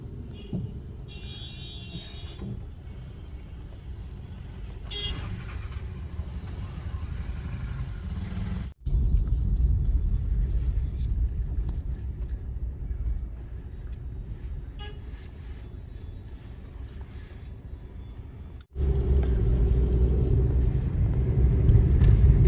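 A traffic jam near Mall Road in Manali, Himachal Pradesh, makes a continuous rumble of idling and creeping cars, with short horn toots sounding early on, heard from inside a vehicle.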